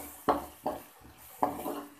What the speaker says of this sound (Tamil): மேரக்காய் போட்டு வதக்குறப்ப கொஞ்சம் ஒரு சிட்டிக்கை சீரகம் போட்டு வதக்கிக்கோங்க